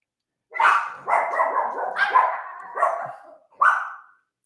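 Two puppies bark in a short burst of five close, loud yaps and barks separated by brief gaps, with no voices.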